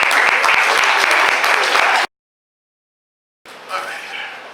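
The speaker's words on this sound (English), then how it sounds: "give them a big round of applause." Audience applause at a Boston talk by Runoko Rashidi: loud, dense clapping with sharp individual claps for two seconds, then a sudden cut to silence and a quieter return of applause and crowd noise.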